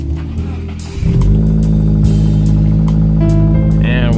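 A car engine cranks and catches in winter conditions, then settles into a loud, steady idle close by, with a slight rev rise toward the end.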